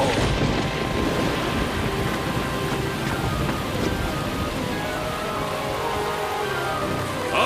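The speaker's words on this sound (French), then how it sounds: "un vent violent se déchaîne. Par tous les dieux, un ouragan souffle de l'île." Violent wind and heavy rain roar without pause through a hurricane at sea near an island, a dense, loud, steady wash of storm noise with no voices.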